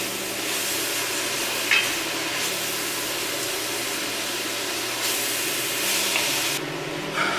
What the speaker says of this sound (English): we're gonna add 3 tablespoons of butter and we're gonna caramelize our onions.